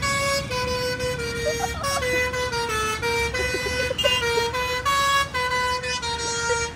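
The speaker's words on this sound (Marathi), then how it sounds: "या ट्रकवाल्याचा आहे ना हॉर्न एक नंबर आहे." A truck's loud musical multi-tone horn blares continuously on the Malshej Ghat road, close and sustained, its melody shifting pitch over a rumbling engine and road noise.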